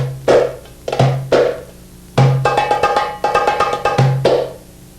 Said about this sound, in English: Half pops sound like this.